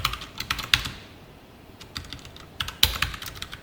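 Computer keyboard typing in bursts of close, crisp key clicks, with a quieter pause in the middle before the clatter resumes.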